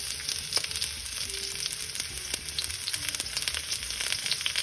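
Sliced onions frying in hot oil in a wok, a steady crackling sizzle that holds throughout, with a few brief clinks and scrapes of stirring on top.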